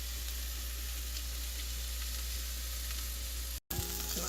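Santa Fe blend mixed vegetables frying in a pan, a steady close sizzle and crackle running throughout with a brief cut near the end, no talking.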